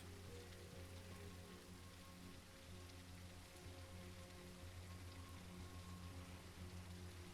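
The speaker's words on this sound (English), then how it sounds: "so rain is hitting there" Rain falls steadily in the video game SurrounDead, a soft, even hiss of drops over a low droning hum, quiet and continuous.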